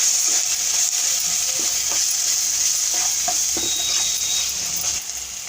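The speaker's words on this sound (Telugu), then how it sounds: "ఉప్పు, కారం, పసుపు అన్నీ వేసేసి మష్రూమ్స్ ఇందులో వేసేసి వేయించుకోవాలి ఒకసారి" Mushrooms fry in a pan with salt, chili and turmeric, giving a constant loud sizzle broken by stirring scrapes.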